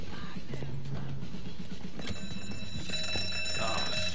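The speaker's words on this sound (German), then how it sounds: "hast du den Alarm ausgelöst?" An alarm system sounds in the video game Mafia 3, a steady electronic tone fairly faint beneath busy game noise and shuffling.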